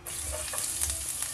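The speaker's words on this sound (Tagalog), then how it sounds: "igisa natin yung bawang" Garlic frying in a little oil in a pan, a steady close sizzle with faint crackles throughout the brief moment, no voices.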